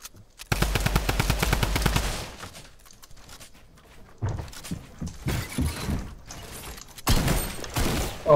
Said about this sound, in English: he's got a drum gun as well